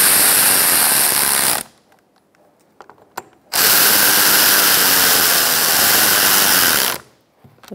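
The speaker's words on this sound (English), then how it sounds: "I'm going to snug these up and torque them to 62 inch-pounds." A ratchet runs in two long, loud, steady whirring stretches separated by a quiet pause with faint clicks, tightening the fan clutch bolts on a 2007-2017 Ford Expedition with a 5.4L V8.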